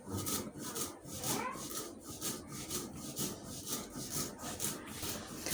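Fried mustard seeds being crushed on a stone grinding slab, a steady rhythmic rubbing and scraping of stone on stone repeating in quick strokes, close and even, with no talking.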